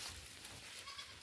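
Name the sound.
goats bleating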